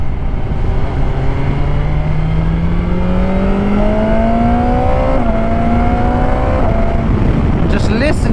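A 2021 BMW S1000XR motorcycle engine pulls hard while riding, its note climbing steadily through the revs under heavy wind rush, then easing off near the end.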